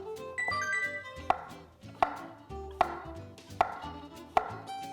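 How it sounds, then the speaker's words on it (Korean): Button mushrooms sliced with a kitchen knife on a cutting board, a run of crisp, evenly spaced chops close by, with faint kitchen clatter in between. "양송이 버섯 편으로 썰어 주세요"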